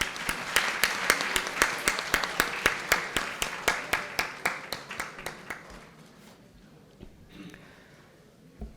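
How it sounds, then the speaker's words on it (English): Rhythmic, evenly spaced group clapping from a panel-discussion audience, strong at first and gradually fading over about six seconds, followed by quiet room tone with a faint sound near the end. "A round of applause, everybody."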